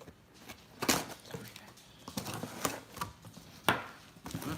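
A Cutco knife slices open a cardboard box in a series of sharp, scraping cuts, spaced irregularly at close range, with faint voices in the background.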